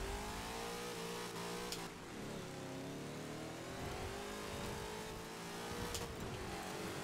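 Ford Mustangs, a 1965 and a 2018 model, drag racing in the racing game Forza Horizon 4, with a continuous loud engine drone whose pitch climbs and drops through gear changes, sustained for the whole stretch.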